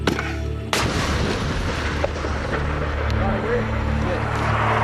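An artillery gun firing in Afghanistan: a single loud blast near the start, followed by a sustained rumbling roar from machinery or wind that continues underneath.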